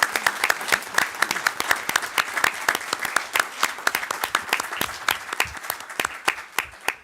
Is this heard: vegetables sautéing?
no